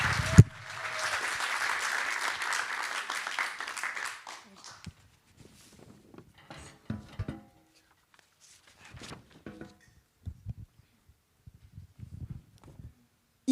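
An audience at a student research-presentation contest gives a burst of applause for about four seconds as a speaker is welcomed on stage. The clapping then stops, and quiet footsteps, knocks and movement follow.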